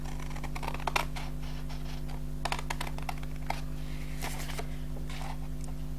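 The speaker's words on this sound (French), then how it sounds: "je coupe comme ça" Scrapbooking paper is cut, making a scattered series of light, crisp snips and rustles over a constant electrical hum.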